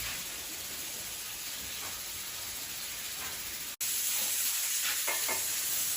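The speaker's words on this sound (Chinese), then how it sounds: "先把这个豆腐煎一下，煎到两边金黄了" Tofu pan-frying in oil outdoors, a steady dense sizzle with brief spatters and stirring scrapes, close and continuous.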